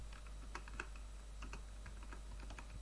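Python code being typed on a computer keyboard, a fairly quick run of soft, close key clicks in irregular bursts over a constant low electrical hum.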